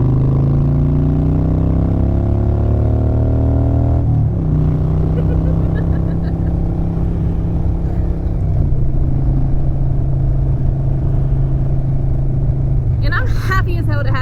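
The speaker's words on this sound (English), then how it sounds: "Happy to be on my loud, shaky, rumbly, rough around the edges Harley-Davidson." A loud, shaky, rough Harley-Davidson motorcycle engine rumbles steadily while riding, with wind noise and someone talking over it at close range.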